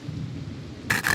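Rain and a thunder rumble in a Skaven video game: a low, steady rumbling wash throughout, then a sudden brighter crackling burst of rain or thunder near the end, with no talk.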